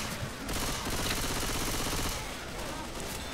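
A rifle in the video game Left 4 Dead fires in rapid bursts, a dense, fast rattle of shots that continues almost without pause across the short span.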